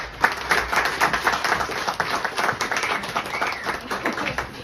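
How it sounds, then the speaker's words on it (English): Diners give a round of applause for the restaurant's waiters and waitresses at a local history dinner event, a steady patter of many hands clapping at moderate loudness throughout. "Can we give them a round of applause, please?"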